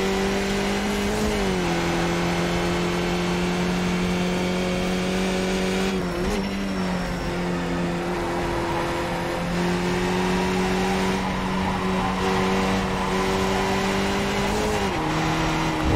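Race car engine in the iRacing sim droning steadily at high revs, with the pitch dipping briefly as the car slides around on cold tyres, then climbing and holding again, loud and continuous with no talk.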